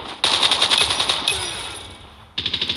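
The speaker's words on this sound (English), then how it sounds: "Shoot!" Automatic gunfire in Call of Duty: Mobile, a loud sustained burst of rapid shots that fades out, then a fresh close burst of evenly spaced rounds at the end.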